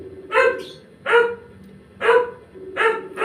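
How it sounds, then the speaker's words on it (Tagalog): A dog barks four times in steady, evenly spaced woofs, fairly close and clear against a faint hum of background noise during a live chat stream. "Naku, tahol na may aso."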